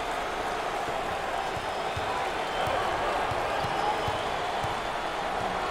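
A college basketball arena crowd during an NCAA tournament game roars in a steady, dense wash of noise, with faint ball bounces and court thuds showing through the din.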